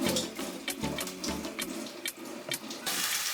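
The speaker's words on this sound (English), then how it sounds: "I will drain the excess water from the noodle." Hot water is poured off cooked noodles for a steak and vegetable stir-fry, splashing and gurgling into a sink in an uneven stream. Sharp clatters come through it, close by, and no one speaks.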